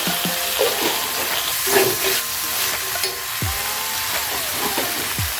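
Ground coriander and cumin sizzle and hiss steadily in hot oil for a beef curry, a close, continuous frying crackle with occasional stirring scrapes.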